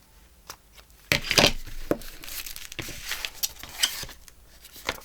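Scissors cut through paper pages around a corner of a handmade journal, giving close crisp snips and crinkly rustles at an uneven pace.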